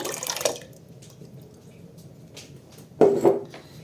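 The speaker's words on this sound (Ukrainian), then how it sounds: "Виливаю сік свій" Tomato juice is poured into a cooking pot, with a brief splashing burst at the start, quiet drips in between, and another short splashy pour near the end.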